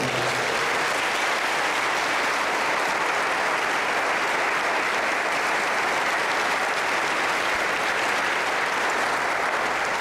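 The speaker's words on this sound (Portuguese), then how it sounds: "Diga graças a Deus e aplauda o nome do Senhor." A church congregation breaks into sustained, even applause that fills the room for the whole stretch, broad and continuous with no pauses.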